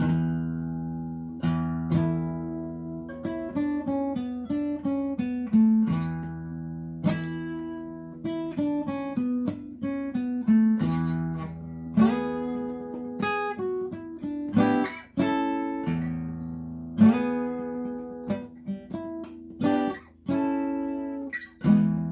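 Acoustic guitar chords strummed in a steady rhythm, each strum ringing out clearly before the next, shifting between a few chord shapes, no talking.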